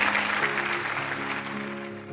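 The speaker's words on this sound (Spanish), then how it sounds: "Un aplauso, por favor." Applause from an audience at a showing of art book pages for Castlevania: The Animated Series, a steady, dense wash of clapping lasting a couple of seconds with a faint tonal hum running underneath.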